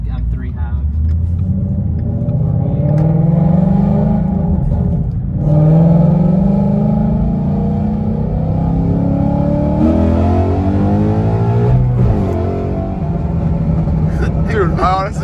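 A Ford Mustang 5.0 accelerates hard in a roll race, its engine roaring loud from inside the cabin as it climbs through the revs with a shift partway through, while occupants talk and shout over it.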